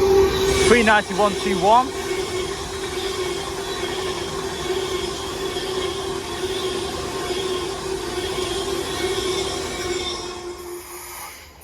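An Avanti West Coast train on an Edinburgh to London Euston service passes close by with a steady, loud rumble and a sustained tonal whine lasting throughout, briefly joined near the start by a rising and falling whistle-like tone, with a short spoken number early on.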